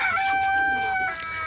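Desi chickens wander outside on a poultry farm, one bird letting out a loud, close, drawn-out crow with a clear sustained tone, other farm noise faint beneath it.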